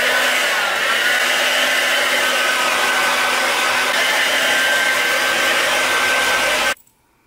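A hair dryer blow-drying hair for volume roars loud and steady at close range, then shuts off abruptly near the end.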